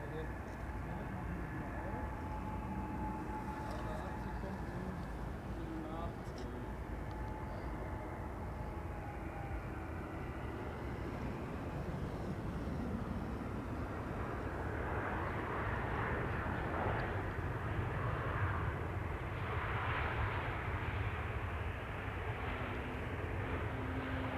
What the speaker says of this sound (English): the A321neo from KLM is approaching